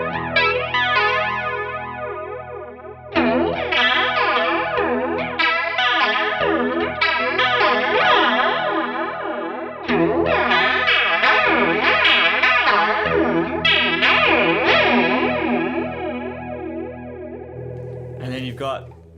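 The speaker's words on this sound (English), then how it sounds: "So I've kept it up here to this kind of almost Leslie sound with the range down." Electric guitar played through an Aroma (Tomsline) Twister flanger pedal, an Electric Mistress clone, set to a swirling, almost Leslie-like rotary modulation; sustained chords shimmer and warble continuously, loud and close, with no talking.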